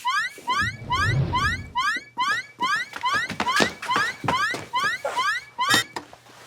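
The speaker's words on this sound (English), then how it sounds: "You set off the alarm." A shrill electronic alarm repeats rapid rising beeps in a steady, insistent rhythm, loud and close, with some low rumbling noise early on.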